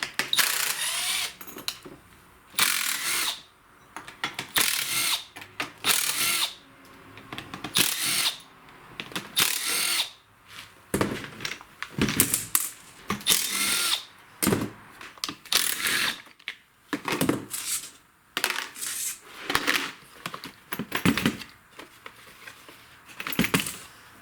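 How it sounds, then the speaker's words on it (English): Power driver backing out T27 Torx screws from the housing of a STIHL FS56 string trimmer, repeated short whirring bursts with pauses between, close and fairly loud. "take this all off, and I'm going to access the clutch. And a Torx number T27 will be your best friend to do this"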